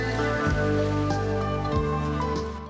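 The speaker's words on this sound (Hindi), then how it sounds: "तेज बारिश का सिलसिला कराची के जुनूबी हिस्सों तक ही महदूद रहा" Heavy rain pours in Karachi, a dense, steady hiss of water falling on surfaces with a few low thuds, loud and continuous throughout.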